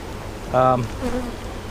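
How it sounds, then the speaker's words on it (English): Honey bees at an opened hive during a fall inspection, with a brief close buzz as a bee passes near, then a fainter second hum against quiet background noise. "So basically we got good bees, got a small nest, packing it out for winter."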